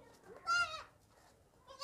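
A goat, mother of two kids at an Eid livestock market, lets out one loud, close bleat, and a second bleat begins just as the sound ends.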